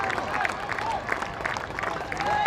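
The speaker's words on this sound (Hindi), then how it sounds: "ये शतक का भरपूर तालियों के साथ अभिवादन किया" Spectators at a Vijay Hazare Trophy cricket quarter-final between Karnataka and Baroda applaud a batsman's century, with a steady patter of clapping from a moderate crowd and a commentator talking over it.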